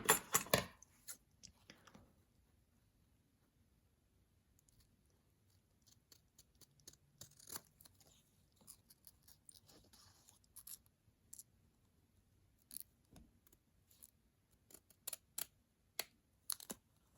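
Scissors cutting out the parts of a paper model of a CRJ-200 airliner, faint irregular snips and paper rustles in a quiet room, with a louder crackle at the start.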